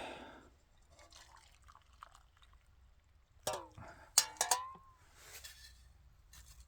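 Faint liquid trickling and dripping, broken by a few sharp clinks of a cup or vessel midway through, in an otherwise quiet room.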